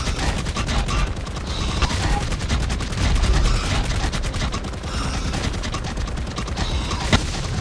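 Sustained rapid gunfire in the ARK Fjordur video game, dense overlapping bursts of shots firing continuously and loudly throughout with occasional heavier impacts.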